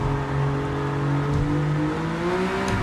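A Toyota 86 fitted with an Alfa V6 engine races on a dry track in Gran Turismo 7, its engine holding a steady, loud harmonic drone that slowly bends upward in pitch as it pulls, heard alone with no voices.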